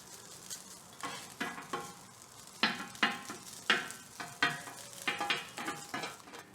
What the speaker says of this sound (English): When the rice is properly warmed up and frying like this and slightly changing color